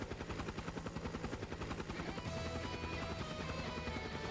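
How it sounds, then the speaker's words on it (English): Apache helicopter passing overhead in the video game Trails of Cold Steel 3, a rhythmic rotor chop pulsing steadily before blending into a continuous whirring drone, fairly faint and alone without talk. "It's an Apache helicopter."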